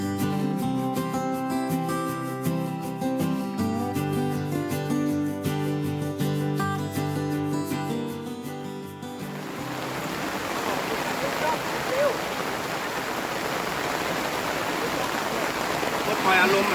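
Heavy rain pours during a storm at a riverside fishing spot in Chiang Rai, a loud dense hiss that takes over once music fades out halfway, steady and unbroken with no voices.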